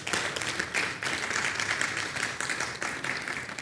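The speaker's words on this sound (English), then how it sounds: "So a big round of applause to all the award winners." Audience applause for award winners at the Ghana Industrial Summit and Exhibition 2024, a dense, steady wash of many hands clapping throughout, moderately loud and continuous with no talk over it.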